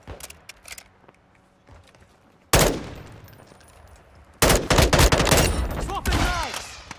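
Gunfire in the shooter game Call of Duty: Modern Warfare II: scattered single shots, then a loud sustained automatic burst, a pause, and another long, close burst with ringing metallic tails.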